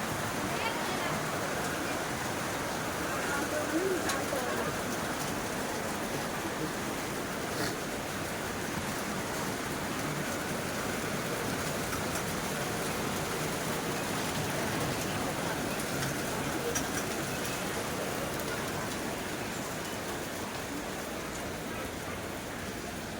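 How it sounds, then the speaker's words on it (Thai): Heavy rain falling steadily in Thailand, a dense constant hiss of downpour that fills the whole stretch without letting up. "ฝนตกไม่หยุดเลยนะคะ"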